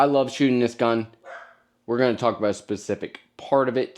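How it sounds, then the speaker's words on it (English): A dog barks in the background while someone talks over it at length, the barks partly masked by his voice and never heard clearly on their own. "You can hear the dog in the background."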